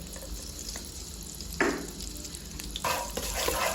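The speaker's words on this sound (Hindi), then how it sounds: "चीनी को अच्छी तरह से मैं घी में मिक्स करूँगा" Sugar being stirred into hot ghee in a stovetop pan while making popcorn: a steady low sizzle with two brief scraping strokes of the spoon, the second continuing as a louder sizzle to the end. No voices.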